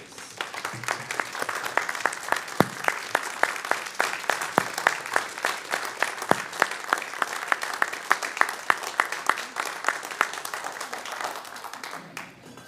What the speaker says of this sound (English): Round of applause for all of our board members